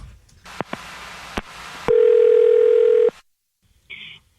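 A loud, steady telephone dial tone comes through a landline handset before a call is placed, following a few sharp clicks and bumps of the receiver being picked up. A short higher electronic beep follows once the tone stops.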